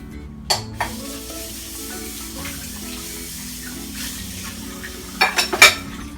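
Onions and seaweed cook in a pan while being pressed down. A soft, steady sizzle runs throughout, with a couple of clinks early on and a quick run of louder scraping presses near the end.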